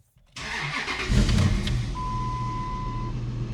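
A 2002-2005 Dodge RAM 1500 pickup with a 5.7 Hemi starts and revs after a fuel pump replacement. A sudden loud burst gives way to a steady, close engine roar, and a thin beep-like tone runs partway through.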